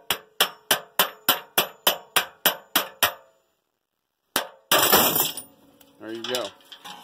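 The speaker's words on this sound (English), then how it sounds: "Figured I'd show you my little brass hammer and getting the third one out and watch this thing fall." A small brass hammer strikes metal about ten times in a quick, even rhythm while knocking a part out of a New Holland 1400. After a pause, the freed drum drops with a loud, ringing metallic clang and then rattles.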